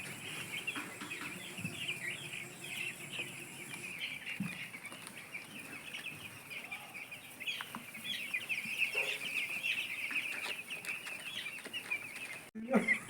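A farm flock of young chickens clucks and peeps steadily while eating and drinking, a busy, moderately faint chorus with occasional wing flutters and a sharp knock near the end.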